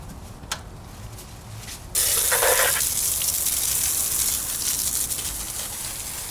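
Water sprays in a steady broadband hiss onto a Suzuki DR650 motorcycle being washed, starting abruptly after a quiet moment and running continuously at close range with slight changes in texture.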